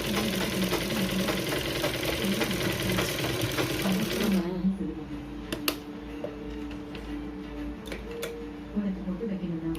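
A sewing machine stitches a blouse back piece, running in a steady fast mechanical whir that stops midway, followed by quieter ticks and handling noises while someone talks throughout.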